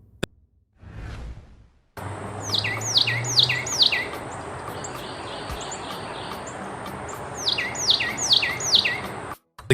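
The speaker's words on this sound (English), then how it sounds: "The Carolina wren is a small but spirited bird native to the southeastern United States" Carolina wren, a small songbird of the southeastern United States, sings repeated loud rolling phrases in two bursts over steady outdoor background noise, with a brief whoosh near the start.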